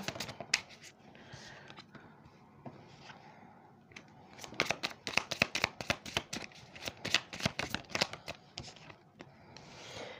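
Tarot cards are shuffled by hand in repeated bursts of crisp riffling and flicking, close and fairly quiet, with soft talk between the shuffles.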